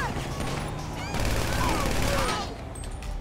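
Rapid gunfire rattles through a GTA 5 FiveM shootout, a dense, loud fusillade of overlapping shots that barely lets up, with a voice faintly underneath.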